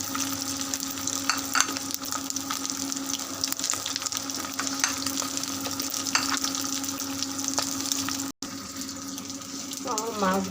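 Fish frying in a pan in a home kitchen, a steady low crackling sizzle that runs continuously at moderate level, with a brief cut near the end and faint talk in the background.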